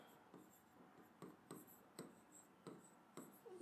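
Writing on a classroom board during a Hindi grammar lesson, a series of short, quiet scratchy strokes in an irregular rhythm, about eight distinct marks spaced over a few seconds with near silence between them.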